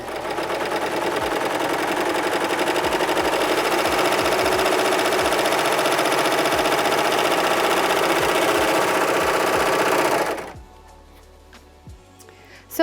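A serger runs a rolled hem along satiny fabric in one loud, continuous mechanical whir with a fast stitching buzz, stopping abruptly near the end and leaving quiet room tone.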